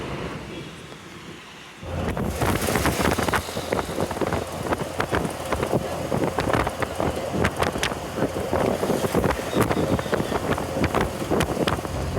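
A new TNSTC Jaguar BS6 bus cruising at about 80 km/h between Chennai and Coimbatore, heard as a loud, steady broadband roar of wind and road rush with dense rattles and knocks, starting abruptly after a quiet opening.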